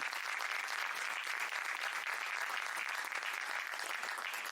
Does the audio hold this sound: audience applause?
yes